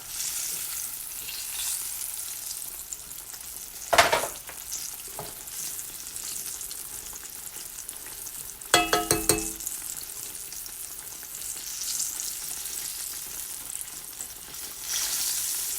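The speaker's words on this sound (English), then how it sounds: "Let these babies fry up" Breaded eggplant and green tomato slices frying in hot oil, a loud, continuous close crackle and hiss, with a sharp clatter near the middle and a few brief knocks of a utensil.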